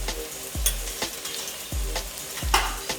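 Onions sizzling in a pan after eight minutes of sweating, with turmeric and cumin seeds added for a Punjabi chicken curry; steady frying hiss broken by several stirring scrapes.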